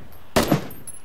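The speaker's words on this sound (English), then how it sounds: "Oop, shots to your left. You hear that? Do whatever you want. Looks like it's a sniper." A single sniper gunshot in the PUBG battle royale game, a sharp distant crack with a short rolling tail, heard alone against quiet background.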